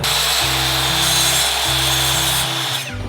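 A power miter saw cuts wooden crown molding with a loud, sustained motor whine and a rough cutting roar, held close and steady before winding down near the end.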